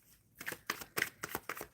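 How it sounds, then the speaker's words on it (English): Tarot cards shuffled by hand in short riffling bursts, about six quick rustling pulses at a steady rhythm, close and fairly quiet with no talking. "Okay, I'm shuffling for a Dee Dee"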